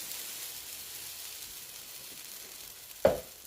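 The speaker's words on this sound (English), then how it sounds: "Now, we're going to pop in the egg mix that we made." Beaten egg mix for a bacon and egg scramble is poured into a hot pan, giving a steady soft sizzle that swells into a brief louder hiss near the end.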